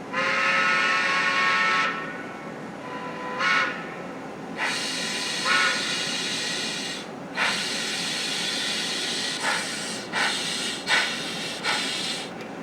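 A model train locomotive with a TCS WOW sound decoder gives loud bursts of steam hiss and chuffing, broken by brief pauses and short whistle-like tones, close and with no talk.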